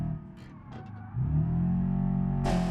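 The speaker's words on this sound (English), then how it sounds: "No, it just sounds like a normal engine." A hydrogen-powered car in the BeamNG video game idles, then revs up into a steady engine drone that sounds like an ordinary combustion motor, ending with a brief burst of noise.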